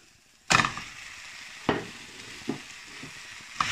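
Ground meat frying in a pan for chili con carne, chopped and broken apart with a spatula: a loud sizzle bursts in, then three more scraping, sizzling strokes follow at uneven intervals, close up with no voices.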